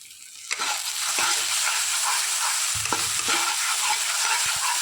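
A spatula stirs a drying, cumin-spiced dish in a pan, scraping steadily against the bottom with a constant sizzling hiss and occasional louder knocks, close and alone.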